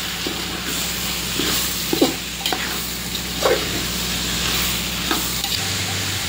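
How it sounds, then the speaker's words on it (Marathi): Peas and mixed vegetables for a large batch of veg pulao are stirred in a pot over a loud, steady sizzle, with a spoon scraping and clacking in an irregular rhythm, close by and with no talk. "मटार आणि भाज्या छान मिक्स करून घेऊया।"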